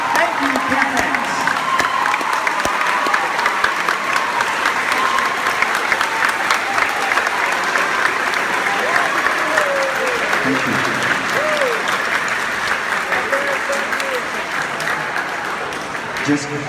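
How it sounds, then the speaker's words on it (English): Parents receive warm applause from the audience at an intermediate school symphonic band concert, a long, steady roll of clapping with a few voices and cheers mixed in, easing slightly toward the end. "let's give all the parents a big round of applause"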